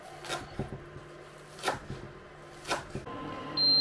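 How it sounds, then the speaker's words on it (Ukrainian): A knife chops green onions on a board in a few sharp, spaced strikes, with softer taps between them, close up and without talk. "Поки тушкуються в сметанки наші рижики, ми наріжемо зелену цибулю."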